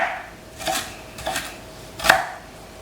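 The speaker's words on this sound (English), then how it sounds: "I'm just going to go ahead and mince it into my pan with my onion" Garlic cloves are minced straight into a pan holding onion, making three distinct, close chopping knocks, evenly spaced, with the last the loudest.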